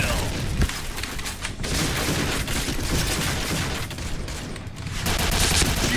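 In a PUBG match, loud gunfire including shotgun blasts comes in dense, overlapping volleys that barely let up, with a voice faintly present underneath.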